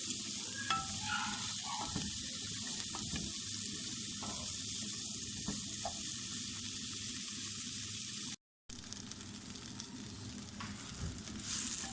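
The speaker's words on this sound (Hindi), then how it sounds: "प्याज को थोड़ी देर के लिए भूनेंगे" Onions frying in a pan at the start of a mixed-vegetable recipe make a faint, steady sizzling hiss with light stirring scrapes, broken by one brief silent gap.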